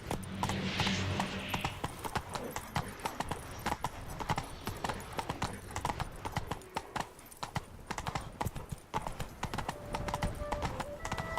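Roach's hooves in The Witcher 3: Wild Hunt, a dense, loud, continuous clip-clop of a horse on the move with a short snort near the start.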